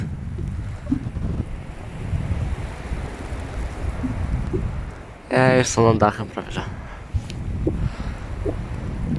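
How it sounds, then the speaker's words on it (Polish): Steady wind rumbles and buffets the microphone outside a house throughout, with a voice speaking briefly in Polish in the middle. "Wiatr jest."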